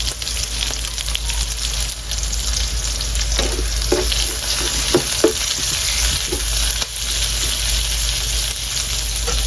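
Chili peppers frying in a pan for adobong sitaw with pork and onions, a loud continuous sizzle with crackling pops and stirring scrapes, close and steady throughout.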